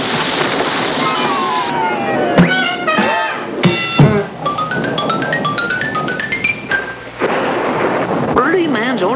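Thunder and rain of a lightning storm in a Jiminy Cricket Disney cartoon about electricity: loud rumbling crashes and a hiss of rain, mixed with sweeping, swooping orchestral music and sharp hits.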